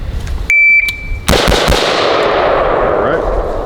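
A shot timer beeps, then several quick AR-15 rifle shots crack out in close succession during a Mozambique drill, loud and near, with echoes decaying after them.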